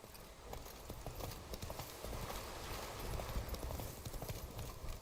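Horse hooves clip-clop steadily through the whole stretch in Witcher 3, a continuous rhythmic trot of the mount Roach at moderate loudness, with game ambience underneath.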